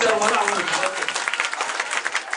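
Audience applause at a Bible quiz, a burst of clapping that fills the short moment alongside a speaking voice, steady and fairly close.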